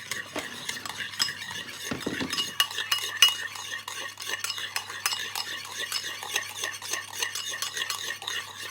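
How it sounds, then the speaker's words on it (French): Almond tuile batter being whisked in a bowl, a fast continuous scraping and clinking of the whisk against the bowl, close and fairly quiet, alone without talk. "Je mélange."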